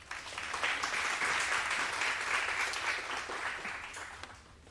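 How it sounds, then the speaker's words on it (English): An audience at a women's leadership conference applauds after a speech, a broad, fairly soft wash of clapping that swells, holds, and fades out over a few seconds. "I hope you heard that round of applause"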